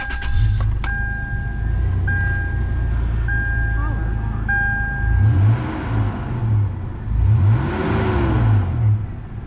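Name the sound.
2002 Toyota 4Runner engine starting and running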